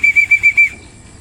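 A racing pigeon comes in during a training toss at Palayan City, its wings beating in about five quick, close, rhythmic flaps with a thin whistling note above them before it fades to quiet.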